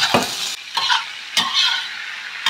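Boiled banana blossom is stir-fried with a cooked spice paste, with steady sizzling broken by several scraping stirs of a spatula in the pan.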